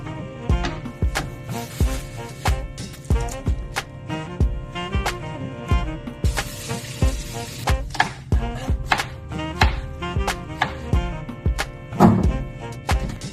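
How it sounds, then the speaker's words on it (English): A knife chops green onions on a cutting board in a series of crisp, close thunks at an uneven rhythm, with a brief rustle in the middle, for egg drop soup. "we're gonna grab our green onions and go ahead and chop those up"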